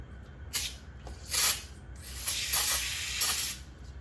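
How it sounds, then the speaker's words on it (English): Several short hissing bursts of aerosol brake cleaner sprayed onto a rag, close and fairly loud, with brief pauses between them and no talking. "I'm going to spray a little bit of brake cleaner on my rag"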